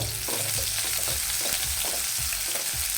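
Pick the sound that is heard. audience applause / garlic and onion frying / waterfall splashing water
garlic and onion frying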